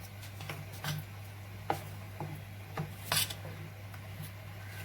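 Palak pakoda batter being mixed by hand or spoon in a bowl, with soft rasping, rubbing strokes repeating irregularly over a steady low hum, fairly quiet, no talk.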